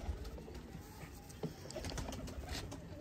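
Pigeons coo softly in a small loft or coop setting, steady low murmuring calls running throughout under faint background hiss, fairly quiet and close.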